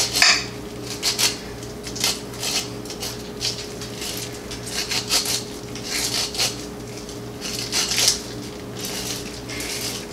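A knife scrapes fresh corn kernels and milky pulp off a cob for homemade creamed corn, with repeated close rasping strokes, some light clinks, and a steady low hum underneath.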